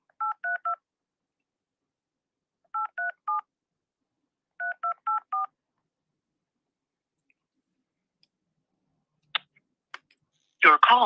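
Telephone keypad tones beep in three quick groups of four, clean and evenly spaced, followed by a few faint clicks and the start of a voice at the end.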